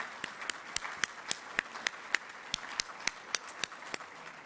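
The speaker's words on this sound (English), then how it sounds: "Let's give him a round of applause in his absence." Sparse banquet applause for an award recipient: a few distinct hand claps at an even, unhurried rhythm, fairly quiet and distant in a large room.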